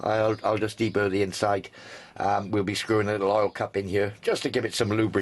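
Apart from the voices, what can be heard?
No everyday noise stands out behind the speech.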